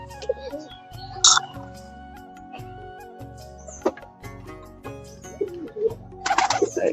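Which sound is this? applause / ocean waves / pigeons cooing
pigeons cooing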